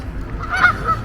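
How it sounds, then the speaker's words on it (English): Geese honking in a large flock of more than a hundred birds outdoors, a steady nasal chorus of overlapping calls that stays moderately loud throughout. "Different kinds of birds, but mostly these are the geese."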